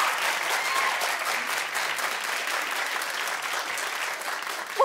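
A studio audience at a daytime talk show claps steadily and loudly throughout, a dense even wash of applause.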